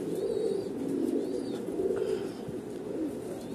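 A coca pigeon chick coos softly and steadily at close range, a low continuous murmur with a few faint higher chirps.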